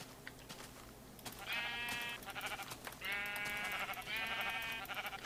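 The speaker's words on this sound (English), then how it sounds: "Let's see what it feels like to punch these sheep here." Sheep in a fantasy video game bleat in several drawn-out, wavering calls, loud and close, over a steady background hum of game ambience.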